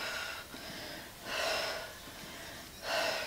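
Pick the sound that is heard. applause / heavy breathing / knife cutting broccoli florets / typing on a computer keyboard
heavy breathing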